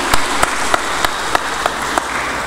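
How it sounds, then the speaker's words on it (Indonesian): Steady applause from a crowd at a regional council public dialogue event fills the room, with a few sharper individual claps standing out at regular intervals. "Tepuk tangan dulu."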